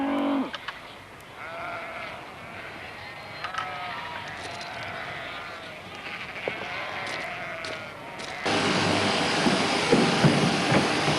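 Sheep bleating on Winchelsea marsh during June shearing: a single bleat near the start, then faint outdoor background under a voice, ending in a louder rushing broadband noise.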